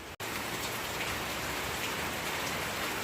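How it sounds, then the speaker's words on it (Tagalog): Steady, dense flood-season rain falling continuously, a broad hiss with drops pattering on a surface, close and fairly loud after a brief cut at the start. "Maghapong ulan."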